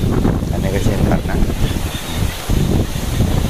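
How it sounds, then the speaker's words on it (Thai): Wind blows steadily across the microphone outdoors during the rainy season in Thailand, a continuous loud rush with faint voices under it. "ลมพัดมาเย็นดีนะ"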